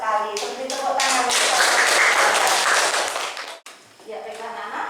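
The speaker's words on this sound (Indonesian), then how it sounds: "Seperti tepuk tangan." Students in a classroom clap together in a short burst of sharp, close claps, mixed with voices, then stop abruptly before talking resumes.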